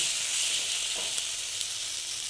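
Chili powder and spices fry in hot oil for potato dum, giving a dense, even sizzling hiss up close with a faint stir or two.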